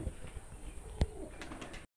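Kalshira pigeons of an old household line coo softly indoors, giving a few low, rounded murmurs with one brief louder burst midway against faint background noise.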